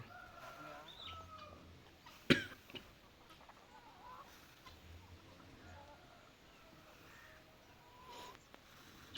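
Chickens and roosters cluck softly around feeding buckets being filled with paddy grain, with one sharp loud call or clatter near the start and scattered faint farmyard sounds throughout.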